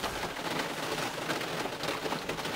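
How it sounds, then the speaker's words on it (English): Heavy rain pours down on a car during a storm, a dense, steady hiss of drops drumming on the roof and glass, continuous and fairly soft from inside, with no talk. "It's pouring down the rain."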